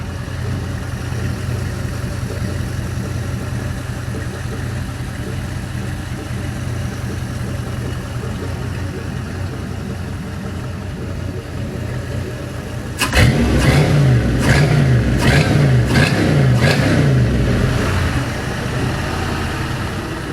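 A GM LS V8 crate engine on a run stand idles in a steady, even rumble, then rises into a few sharp revs with a gruff exhaust note before settling back toward idle; no talking.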